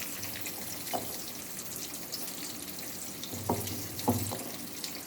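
Garlic and curry leaves sauté in a pan for a green chilli thokku, giving a steady soft sizzle with a few brief clinks and stirring knocks, near and fairly quiet.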